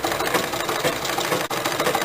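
A sewing machine hums continuously and fairly loudly while stitching darts on a kurti, with a dense, even mechanical rattle and one brief dip in the middle.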